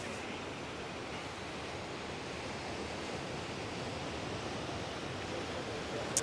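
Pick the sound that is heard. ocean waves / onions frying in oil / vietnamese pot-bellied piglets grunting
ocean waves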